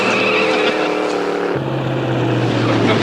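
A strange-looking car pulls up, its engine a loud, steady roar that drops in pitch partway through as it arrives and settles, with a broad rumbling hum throughout.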